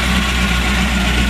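A 1955 Chevrolet Bel Air idles with a steady, loud low rumble through dual exhaust, its gear drive adding a faint blower-like whine over the even throb, with no voices.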